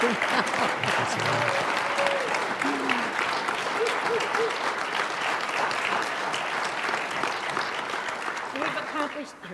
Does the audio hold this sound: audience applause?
yes